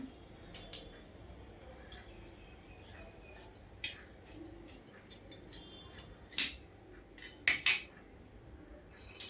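Scissors cutting through an old saree being shaped for an umbrella-style churidar: sparse, irregular crisp snips and metallic clicks, close and fairly quiet against a faint background hum.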